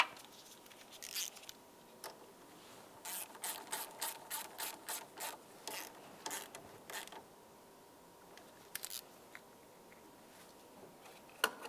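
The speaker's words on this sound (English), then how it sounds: "tighten up your 10mm mounting nut" Ratchet tightening a 10mm mounting nut on a battery terminal of a 2010-2013 Ford Transit Connect, a quick run of about ten sharp clicks in steady rhythm, with a few scattered clicks before and after, fairly quiet and without talk.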